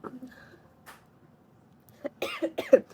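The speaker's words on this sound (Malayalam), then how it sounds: "ഞാൻ പറഞ്ഞില്ലേ ചുമയൊക്കെയാണ്, കുറേ സംസാരിക്കുമ്പോൾ ചുമ വരും" A person coughs in a quiet room: one faint cough near the start, then a loud cluster of several sharp coughs close to the mic toward the end.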